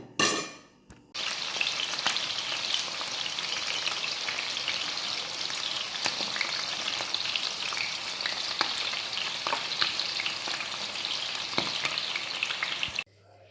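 Rabbit pieces fry in a pan with a constant, close crackling sizzle that carries on for about twelve seconds, with no one speaking.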